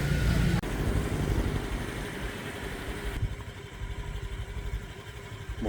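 Motorbike ride on a road toward the beach near Hue, with a steady mid-pitched engine drone and wind rush, louder and gustier in the first half and continuous throughout with no talk.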